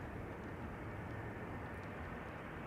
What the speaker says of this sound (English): Delta Airlines arriving from Salt Lake City